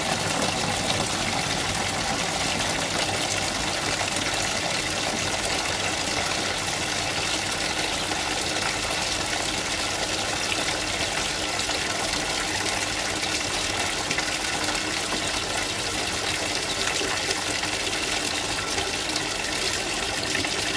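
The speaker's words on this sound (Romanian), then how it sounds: "Pornesc, îi dau drumul la apa fierbinte de la boiler." Hot water gushes steadily from a boiler tap into a container, a loud, continuous rushing stream with no pauses, heard alone.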